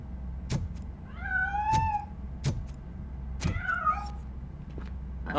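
A cat in Robocop: Rogue City meows twice, drawn-out and clear, between sharp mechanical clicks and thuds over a low ambient hum.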